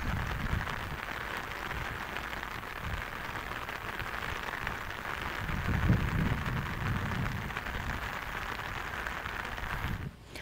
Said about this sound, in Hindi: ठाठरी में भी लगातार बारिश हो रही है।